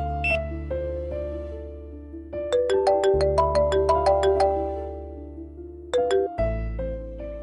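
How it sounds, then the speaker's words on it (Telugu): A mobile phone rings with a bright electronic ringtone melody, a quick run of repeated chiming notes followed by a brief repeat, loud and close with no talking. "ఏంటి రింగ్ అవుతున్నా ఫోన్ ఎత్తట్లేదు?"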